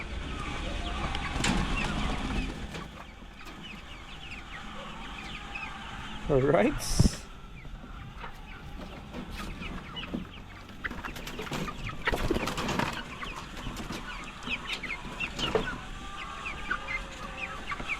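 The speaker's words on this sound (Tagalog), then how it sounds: "Ayan na yung itsura nila, yung mga fifth batch ko na manok." Chickens cluck and chatter steadily up close, with a brief louder squawk partway through and someone speaking a word over the flock.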